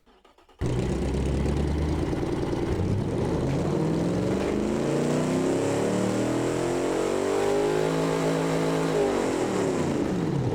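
A V6 drag racer engine in the BeamNG driving game starts up and revs, a loud, sustained, buzzy roar whose pitch climbs, holds high, then falls back toward idle, with no voices over it.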